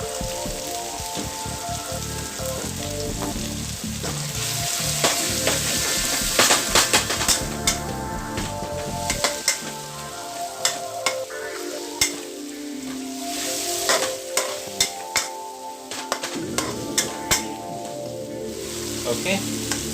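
Beef stir-frying with black bean and oyster sauce on a gas stove, a steady loud sizzle with clattering stirring strokes of a utensil against the pan throughout.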